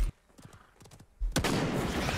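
A single sharp sniper rifle shot from the video game Realm Royale cracks out after a quieter stretch of faint game sounds, followed by a loud, sustained burst of noise.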